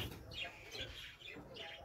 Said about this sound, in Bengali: তো এই হচ্ছে নতুন কবুতরটা